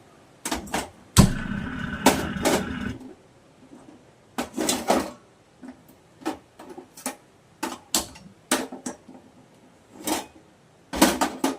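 A metal wok set onto a gas stove and the burner lit: clattering knocks and clicks in scattered bursts, one longer rattling scrape early on, close and fairly loud with quiet gaps.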